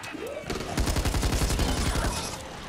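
Rapid automatic weapon fire from the Back 4 Blood zombie shooter, a sustained burst of close, loud repeated shots running for about a second and a half amid game noise.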